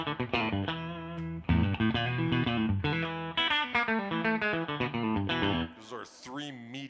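A Stratocaster electric guitar played live through an amp, switching tones with a 3-way pickup toggle switch, rings out in loud sustained chords and bent notes with effects, closing on a few higher wavering notes.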